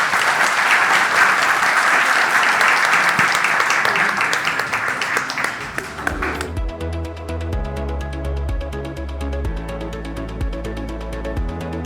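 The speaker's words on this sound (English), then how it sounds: "But please, a round of applause for our speakers." Conference audience at a business event on AI solutions applauding its panel of speakers, loud sustained clapping for about six seconds that then fades, giving way to background music.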